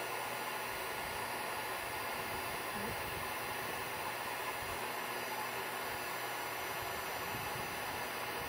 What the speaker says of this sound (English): I'm going to get the heat gun going